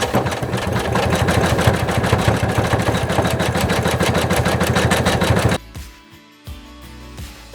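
Felt is stitched on an embroidery machine in a loud, rapid, steady needle rhythm for about five seconds. The run stops abruptly and is followed by a few faint clicks and thumps.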